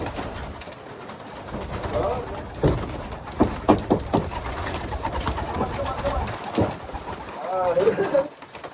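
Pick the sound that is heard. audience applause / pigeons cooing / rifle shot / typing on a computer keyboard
pigeons cooing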